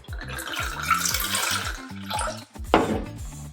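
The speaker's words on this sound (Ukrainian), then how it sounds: "Ось так вона вдягається на пляшку і її зручно наливати." Liquid pours from a bottle fitted with a pour spout into a container, a steady splashing stream for a few seconds that briefly breaks off, then resumes with a gurgle. Voices sound faintly in the background.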